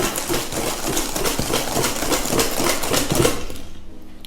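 Eggs being whisked by hand for banana bread batter, a fast, steady, loud rhythmic clatter of the whisk against the bowl that stops abruptly near the end.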